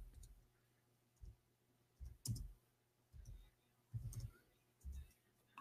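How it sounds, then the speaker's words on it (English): A computer keyboard set up for English is typed on in sparse, soft clicks and taps that arrive in small clusters roughly every second against a quiet room. "I'm typing in English."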